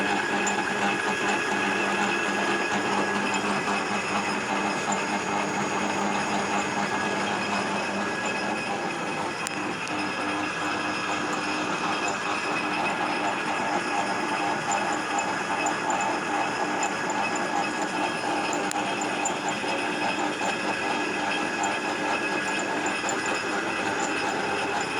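A 1909 Hendey 8-speed lathe runs while cutting chips, a continuous, even mechanical whir with faint clicking and metallic ringing that holds steady for the whole stretch, with no voices.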